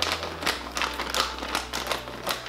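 A packet of horse food treats is being opened with close, crinkly plastic rustling in uneven repeated bursts and no pause.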